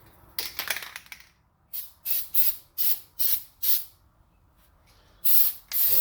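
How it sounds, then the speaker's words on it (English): Aerosol brake cleaner sprayed onto brake parts during a brake and rotor job on a Cadillac SRX: a few short hissing bursts, then a steady run of about five evenly spaced sprays and a final longer burst, close and loud with no talking. "I want to spray the outside of this as well."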